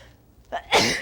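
A single sharp sneeze from a person in a home kitchen while cooking with pepper, a short intake followed by a loud close burst.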